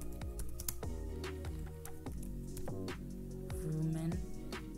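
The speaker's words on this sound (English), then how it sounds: "I will type the prompt here" Keys tapped out on a computer keyboard while a prompt is typed, a quick run of light clicks sitting under steady background music.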